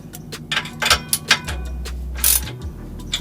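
Bolts being torqued down with a wrench while air suspension airbags go onto a Ford Transit, loud close ratcheting clicks in short bursts with metallic clunks and creaks.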